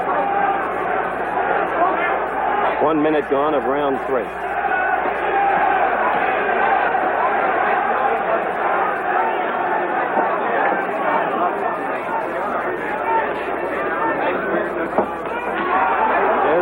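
A roaring crowd at a Muhammad Ali versus Karl Mildenberger boxing match, with loud, continuous cheering and shouting throughout and a commentator talking over it.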